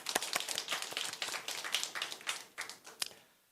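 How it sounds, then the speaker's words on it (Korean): A church congregation claps together in quick, fairly quiet bursts of hand claps that fade out toward the end, with no talking. "우리 하나님께 박수로 영광 돌립니다."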